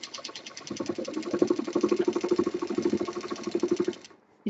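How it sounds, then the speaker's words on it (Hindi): A sewing machine double-stitches a strap for a shoulder bag, its needle hammering in a rapid, even rhythm up close for about four seconds before stopping abruptly. "शुरुआत में डबल स्टिचिंग करते हुए"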